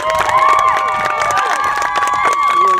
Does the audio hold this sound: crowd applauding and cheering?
yes